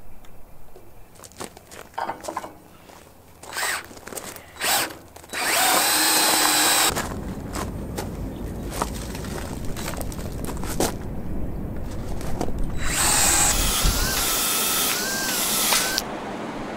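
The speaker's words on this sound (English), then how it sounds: "keep the 2x4 secure as I'm drilling the pilot holes" Power drill boring pilot holes into a clamped 2x4 during a utility trailer floor replacement; two close, loud bursts of whirring drilling, each several seconds long, are separated by clicks and handling noises.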